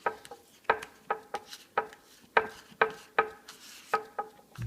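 Scraper drawn repeatedly over a wooden piece to remove Aqua Coat pore filler, giving about a dozen short, sharp rasping strokes in an uneven rhythm, close and fairly loud, with no talk.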